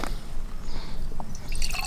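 Spray solution is poured into a garden sprayer that already holds a litre of water, for spraying cucumbers and tomatoes. Soft liquid trickling and dripping runs steadily and close, with a few wetter splashes near the end and no speech.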